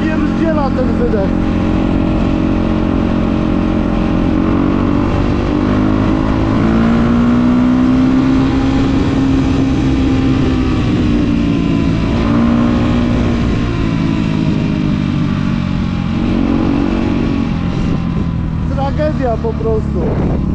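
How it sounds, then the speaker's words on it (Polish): A car's exhaust booms loudly and steadily as the engine revs, with pitch rising and falling, outdoors in rain, with someone talking over it throughout. "Ale napierdziela ten wydech."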